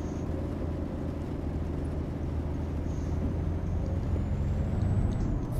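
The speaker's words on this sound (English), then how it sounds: "I still feel like these engine sounds are still really quiet" A truck engine in Euro Truck Simulator 2 drones low and steady, a continuous rumble with a faint rising whine building slightly toward the end.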